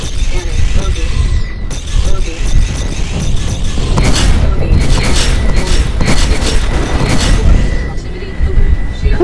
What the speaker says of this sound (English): that's the Neutron cannon, so there you go